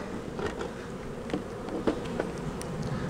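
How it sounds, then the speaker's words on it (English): Honeybees buzz in a continuous low drone at a hive with frames, with a few faint brief clicks and taps mixed in; fairly close and quiet. "A lot of bees."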